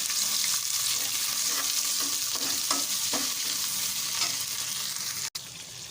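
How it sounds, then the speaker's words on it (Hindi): Garlic ginger paste frying with onions in a pan gives a loud, steady hiss and crackle that runs close and unbroken, with faint stirring scrapes and no voices. "अब हम इसके अंदर जो है लहसुन अदरक का पेस्ट ये ऐड कर देंगे।"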